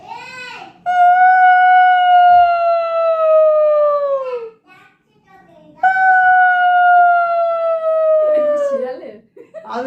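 A voice imitates a snow-country wolf howl in two long, sustained, slowly falling wails, loud and close, with a short pause between them and brief chatter at the end.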